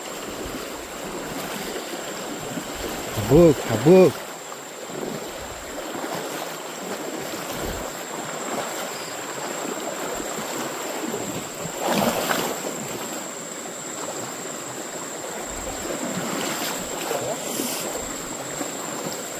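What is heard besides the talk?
river stream water flowing over rocks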